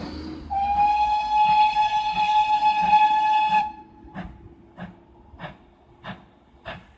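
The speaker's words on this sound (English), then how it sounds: "I mean, can you believe they've still got steam trains?" A steam train on a private heritage railway at Dunster lets out a long, loud, steady whistle for about three seconds, then chuffs in a slow, rhythmic series of exhaust beats, no talk.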